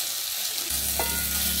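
Taro pieces sautéing with spices in a small amount of oil in a pan, a steady, close frying sizzle that swells after a quiet start and keeps going without pause.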